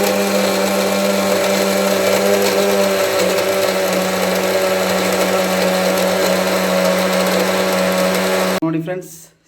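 A mixer grinder runs loud and steady, grinding poppy seeds and cardamom, its whirring drone holding constant before cutting off abruptly and winding down at the end.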